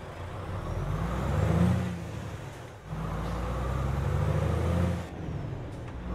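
An Iveco HiWay truck in Euro Truck Simulator 2 accelerates, its diesel engine droning up in pitch, dropping briefly at a gear change, then climbing again before easing off.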